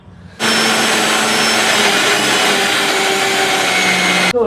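Mixer grinder blending ginger, greens and water into juice, a loud steady whirring roar that starts abruptly and runs for about four seconds before cutting off, with no voices over it.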